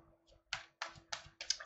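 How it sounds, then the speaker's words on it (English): Tarot cards shuffled by hand during a reading, four crisp riffling bursts in quick succession over a faint steady hum, close and fairly quiet. "Now, shuffling again"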